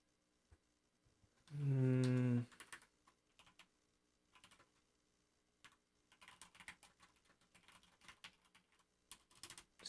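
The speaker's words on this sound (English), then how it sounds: "Just kind of typing out what we've been saying" Computer keyboard typing during a podcast recording: light, irregular key clicks in scattered bursts, faint and close, after a brief loud tonal burst near the start.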